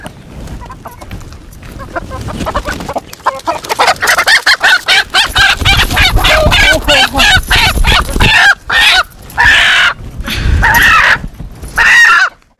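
Native desi chickens, a hen and a rooster, cluck and call loudly and close by in repeated bursts, and someone speaks over them and between the calls.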